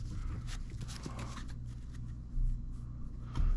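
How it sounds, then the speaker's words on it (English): A deck of Yu-Gi-Oh cards is shuffled by hand close up, giving soft papery riffles and taps in short bursts with a couple of louder thumps, and no voices. "we'll give it a couple more shuffles here."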